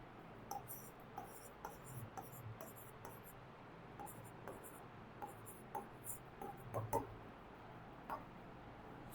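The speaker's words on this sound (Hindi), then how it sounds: "फिर से लिखते हैं।" Chalk or marker writing on a board during an algebra lesson: faint, rhythmic scratchy strokes and taps repeating throughout, with a quiet room hum beneath.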